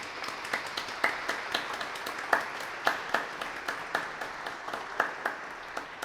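Thin audience applause at a church-related gathering: a small group clapping at a loose, steady pace for several seconds, with individual claps standing out and fairly close.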